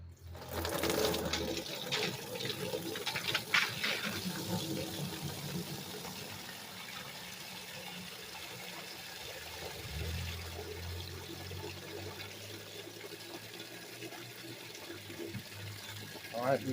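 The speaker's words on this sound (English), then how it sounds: "We're going to pour our mix from here into this just to get the liquid out." Liquid mix poured through a strainer into a black bucket while filtering SD card material for gold, a steady watery splashing and trickle running close by for most of the clip, with faint talk.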